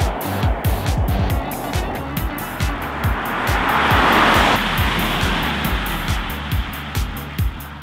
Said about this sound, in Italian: Quella che sto guidando è una Stelvio blu Monte Carlo in allestimento super.